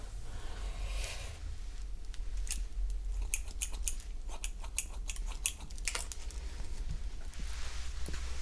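Scissors snipping hair during a soft-spoken haircut roleplay, a steady run of crisp close-up metallic snips in quick bursts over a low hum, continuing throughout.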